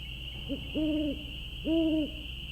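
Two low, hollow owl hoots from a Nancy Drew: Ghost Dogs of Moon Lake video game, each a short rising-and-falling call, separated by a pause, over a steady high electronic whine and faint background hum.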